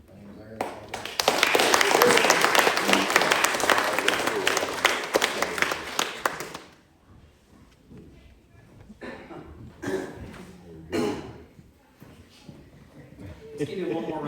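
A church congregation in its new building applauds Larry, a dense burst of clapping for about six seconds that drops away abruptly, then gives way to scattered voices and a few stray sounds.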